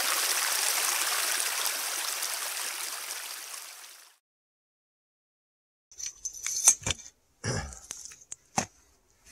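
A seasonal mountain creek in the San Gabriel Mountains in winter rushes with a steady broadband wash that fades out after about four seconds, followed by silence and a few scattered clicks and knocks.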